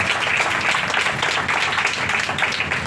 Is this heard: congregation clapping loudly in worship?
yes